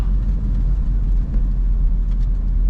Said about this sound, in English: The engine sound is extremely silent.